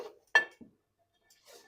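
A metal plate scraping and clinking against a pot while scooping biryani into a serving dish, a few sharp isolated clinks with quiet gaps between.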